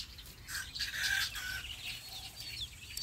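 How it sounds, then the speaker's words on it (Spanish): Backyard hens in a garden in the evening, giving short, scattered clucks and chirpy calls at close range over a low outdoor rumble, with no talking. "Y ando cuidando mis gallinas porque tengo una de ellas que se come mis plantas."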